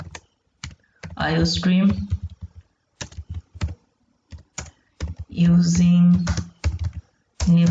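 Computer keyboard keys clatter in quick bursts and scattered single taps while code is typed, close and clear, with a person talking over much of the typing.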